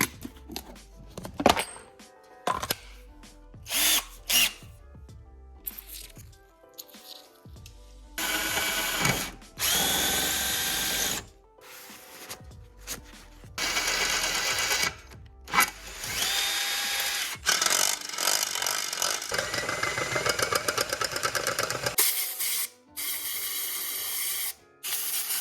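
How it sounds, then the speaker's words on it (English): Power drill boring into a turbo H22 valve cover to fit a bung, running in repeated bursts of high-pitched whine with short pauses between, loud and close with no talking. "For now, I'm just gonna start drilling"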